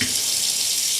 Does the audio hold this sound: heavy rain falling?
no